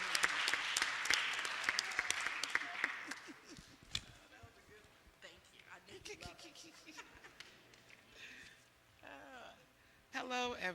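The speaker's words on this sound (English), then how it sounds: "Let's give her a round of applause" A community mental health forum audience gives a loud burst of applause that fades over a few seconds, followed by scattered movement and a voice beginning to talk.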